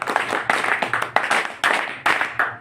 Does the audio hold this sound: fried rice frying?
no